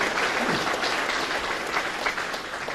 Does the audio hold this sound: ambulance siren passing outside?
no